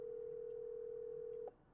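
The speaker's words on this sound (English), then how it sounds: "Pick up the phone, baby. Come on." An outgoing phone call plays a single steady ringing tone that holds evenly, fairly faint, then cuts off abruptly near the end.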